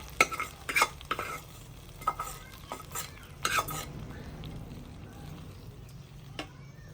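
Cumin and onion tempering for khichdi sizzles softly in a pan while a spoon stirs it, with several sharp clinks and scrapes of metal against the pot over a steady low frying hiss.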